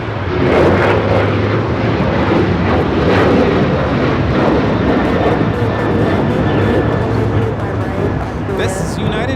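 A United Airlines Boeing 737-900ER takes off from Los Angeles International Airport for Vancouver, producing a loud, sustained jet roar and rumble that stays heavy throughout, with voices talking over it.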